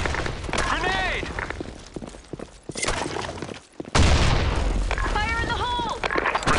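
A grenade explodes in the shooter video game Broken City, a sharp booming blast amid scattered gunfire, with game voice lines heard before and after the burst.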